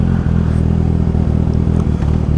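Kawasaki Ninja 1000SX motorcycle with an aftermarket exhaust, idling or cruising with a loud, close, continuous rumble, slight throttle wobble and a faint mechanical clatter.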